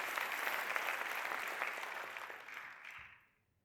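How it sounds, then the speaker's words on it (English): An audience at a conference talk in Amsterdam gives a steady round of applause that carries on for a few seconds and then fades out to near silence. "Give yourself a round of applause to do that."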